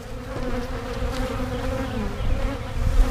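Dense, steady buzzing of many honeybees close by during a hive removal, a continuous droning hum that swells slightly toward the end.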